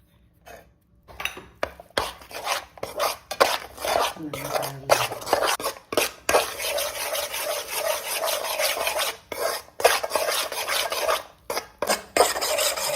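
Ground almond powder being stirred into a mixture in a pan for Thirupagam sweet, a steady scraping, rasping stir with brief pauses, close and fairly loud, no voices.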